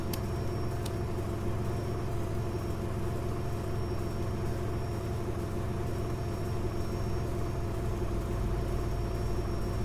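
A Boeing 767-300ER in X-Plane 12 gives a constant, even engine drone as engine number 2 starts, with a low rumble and a mid-range hum at moderate level and two brief clicks at the very start.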